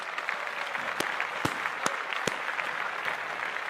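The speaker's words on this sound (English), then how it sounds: "Hold on, let's clap that up." A podcast studio audience breaks into steady clapping, dense and even throughout, with a few sharper claps standing out near the microphone and no voices over it.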